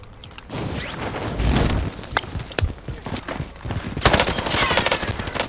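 Gunfire in a video game, a rapid string of sharp shotgun blasts and bursts, loud and close, with clustered shots early and a heavier volley toward the end.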